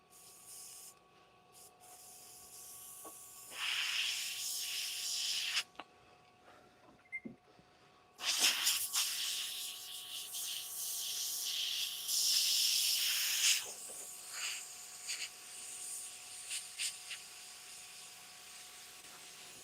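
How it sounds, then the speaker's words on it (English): Bursts of water spraying onto equipment hiss in several long stretches, separated by brief pauses, fairly close and steady, with no talking. "So I'm just spraying this thing out right now."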